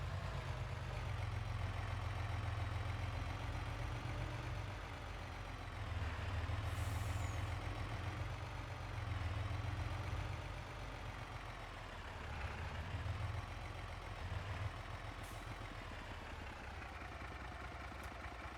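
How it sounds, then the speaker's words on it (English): A truck engine in the farming video game Farming Simulator 22 runs in a steady, loud, low diesel drone, rising and falling slightly in pitch as it idles and revs, with no talking. "we're going to jump in the truck"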